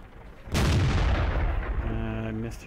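A tank gun fires in World of Tanks from a Jagdpanzer IV tank destroyer, one sudden loud boom that rolls into a long rumbling tail, with a steady humming tone rising underneath near the end.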